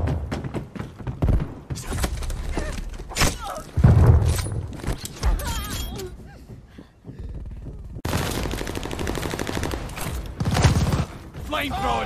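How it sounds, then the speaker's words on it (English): Strafing gunfire from an aircraft in Call of Duty: Vanguard, heavy bursts and impacts rising and falling amid battlefield explosions, with shouted voices throughout. "Hostile strafe inbound!"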